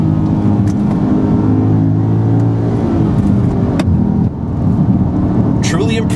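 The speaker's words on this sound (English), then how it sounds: "Listen to the engine." A Mercedes SLK 55 AMG roadster engine rumbles loudly and steadily, revving with a deep low growl throughout, close by.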